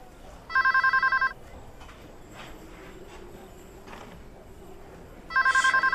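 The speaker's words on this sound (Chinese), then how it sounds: "谁呀？ 非得这点打电话？" An old-style telephone bell rings in two loud, rapid trilling bursts, one near the start and another near the end, with a quiet room in between.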